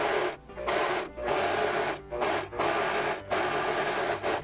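An overlocking sewing machine runs in short bursts with quick pauses between them, overcasting the hem edge of a blouse sleeve. The motor whirs close and fairly loud.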